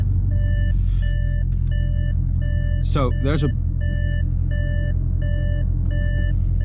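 Door-ajar warning chime in a tuned 1012-horsepower Audi RS6 with the engine idling: a steady series of evenly spaced electronic beeps over a low engine rumble, with someone speaking briefly partway through.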